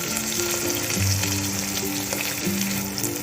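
Chopped onion and green chili sizzle steadily in a hot pan with curry leaves and garlic-ginger paste, a loud continuous frying hiss, close up with a low hum underneath.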